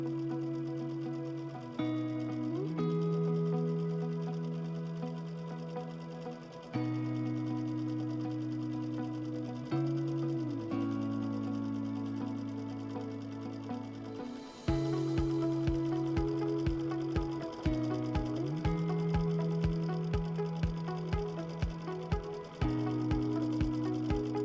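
A sewing machine stitches quilt-as-you-go applique in steady close bursts, its motor hum shifting pitch between runs as it starts and stops.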